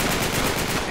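Machine gun fire rattles in the video game Uncharted 3, a loud continuous burst of rapid shots that lasts about a second.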